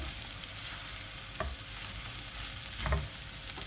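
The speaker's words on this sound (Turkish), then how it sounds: "Hemen salçamı da hafifçe kavurdum." Homemade pepper paste sizzles steadily in a hot pan, with a few louder scrapes as it is stirred and sautéed, close up and without speech.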